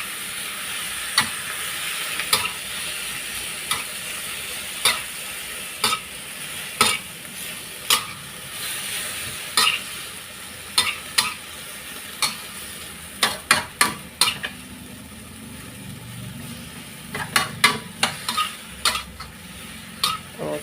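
Choy sum stir-fried in a pan with oyster sauce and fish sauce: a steady, close sizzle runs throughout, punctuated by repeated sharp scrapes and clacks of the spatula tossing the greens, growing quicker toward the end.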